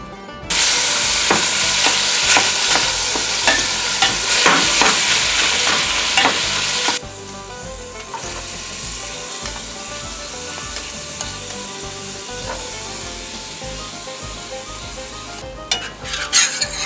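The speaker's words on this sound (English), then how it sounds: "I'm going to put in the peppers and onions in with the meat and cook them kind of all together" Ground venison browns in a pan with peppers and onions for chili, sizzling loudly and constantly under repeated stirring scrapes. After a few seconds the sizzle settles to a quieter, steady frying sound.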